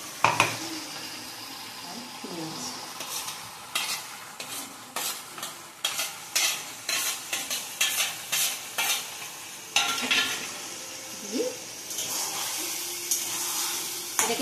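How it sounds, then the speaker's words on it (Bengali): Lote fish jhuro with ginger, chilli and garlic paste is stirred in a pan over a soft frying sizzle, with rhythmic scraping strokes of a spoon against the metal. The strokes come in bursts and grow busier toward the end. "এরম ভাবে ভালো করে নেড়ে টানাতে হবে"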